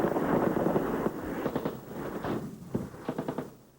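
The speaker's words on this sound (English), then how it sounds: "The Taliban open fire" Gunfire from Taliban fighters on mountain slopes in combat news footage, sustained rattling bursts of automatic fire with scattered shots, distant and echoing, fading toward the end.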